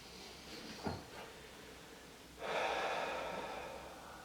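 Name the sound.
breathing during restorative yoga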